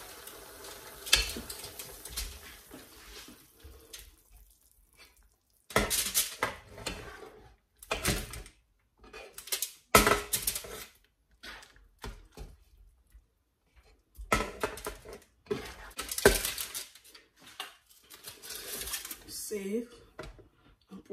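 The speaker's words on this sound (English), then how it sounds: "So I'm going to transfer it in an oven pan and put it in oven just to grill it for like 10 minutes." Cooked jollof rice is moved into an oven pan in bursts of scraping and clattering against the pan, broken by quiet gaps, with a person talking between the sounds.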